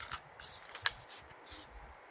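Large tarot cards being shuffled by hand, producing soft papery riffles and slides with one sharp snap near the middle, close and fairly quiet with no talking.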